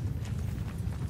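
Mounted archers' horses in a Bannerlord battle produce a continuous, dense clatter of hooves, a low rolling drumming from many riders at moderate volume with no voices.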